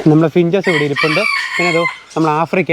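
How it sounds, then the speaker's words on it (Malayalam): A rooster crows loudly in a backyard aviary that also houses finches and other birds, giving several long drawn-out calls with short breaks between them, while someone talks over it. "ഇപ്പോൾ കോഴിയുടെ സൗണ്ട് കേട്ടില്ലേ?"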